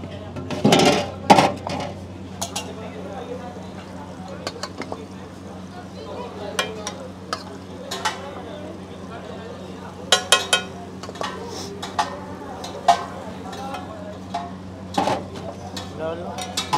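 Basic Indian vaghar of whole spices for black pav bhaji sizzling in a pan, with scattered clinks and scrapes of a spoon stirring against metal and a low steady hum beneath, moderately close.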